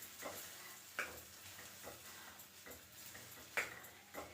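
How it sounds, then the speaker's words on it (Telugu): Raw banana chutney ingredients fry in hot oil with a faint, steady sizzle, broken by soft stirring ticks and occasional clinks of a spoon against the pan. "చూడండి, బాగా నూనెలో బాగా ఉడుకుతూ ఉంది."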